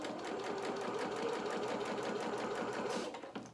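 A sewing machine stitches the band on a dress bodice, whirring in a fast, even rhythm close by for about three seconds before slowing to a stop.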